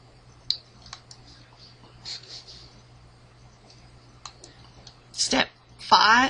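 Sharp computer mouse clicks while PowerPoint slides are edited: a few isolated, quiet clicks spread over several seconds, then two louder, denser bursts of clicking near the end.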